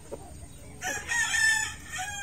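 A single rooster crows nearby, a loud, clear cock-a-doodle-doo that starts partway through and rises and falls over about a second, with faint clucking before it.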